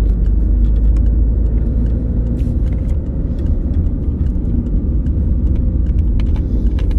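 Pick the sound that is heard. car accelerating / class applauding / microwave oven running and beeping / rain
car accelerating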